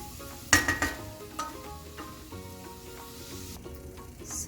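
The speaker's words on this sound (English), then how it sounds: "And I'm gonna saute until the onions are soft" Onions and cumin seeds sautéing in a pan for gobi aloo: a moderate sizzle under a few sharp utensil clinks and scrapes against the pan early on, then a steadier frying hiss.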